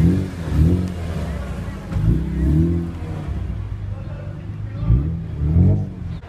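BMW cars rev their engines at Republic Square, with several rising and falling engine sweeps, moderately loud and close. A voice talks now and then among the revs.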